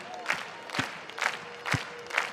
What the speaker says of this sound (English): Starting off with some overhead clap